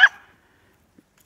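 A puppy gives a single short, sharp yip-bark at close range during dog training, then the clip falls almost silent apart from a faint tap.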